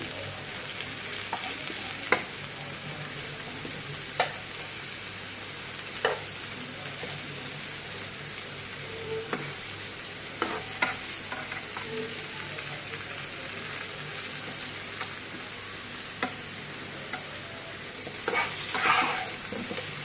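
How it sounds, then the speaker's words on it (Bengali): Potatoes fry in oil in a pan for an egg and potato curry, making a steady close sizzle with scattered crackles and pops and occasional clinks of a stirring spoon throughout. "এখন আমার আলুটা ভাজা হয়ে গিয়েছে"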